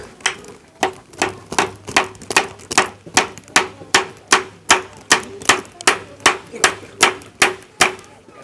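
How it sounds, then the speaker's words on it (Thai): Sharp, regular hammer blows strike in a steady rhythm, around two per second, loud and close with ringing impacts and no talking. "เดี๋ยวตอกสอดก่อน"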